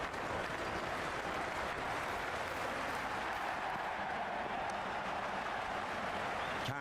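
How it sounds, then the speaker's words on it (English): Video-game crowd buzz from the stands at a virtual India vs South Africa one-day cricket match in Cricket 26, a steady, dense roar of massed voices holding constant throughout with no single voice standing out. "There's a buzz, a real buzz coming from the stands."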